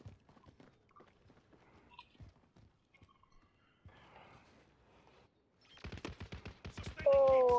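Gunfire in the shooter game Call of Duty Warzone: a rapid burst of shots builds near the end, loud and close, after quieter stretches of footsteps and faint game noise, with a voice talking.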